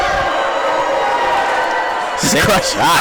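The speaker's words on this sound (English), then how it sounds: "Crowd letting the ref hear it there, right?" Volleyball crowd at an Averett versus Meredith match jeering and shouting at a referee's disputed call, building into a loud burst of yells and whoops near the end, with a commentator talking over the noise.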